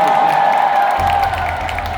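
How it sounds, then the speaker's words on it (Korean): Baseball fans in a stadium applaud and cheer for a player after an LG win, a broad steady wash of clapping and crowd noise with a low rumble joining midway. "박수 한번"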